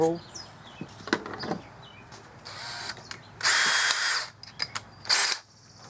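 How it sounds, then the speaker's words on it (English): A power drill bores a larger 3/8-inch hole into a plastic boat, two close whirring bursts, the first longer, separated by clicks and handling knocks. "Now we're going to drill a bigger hole."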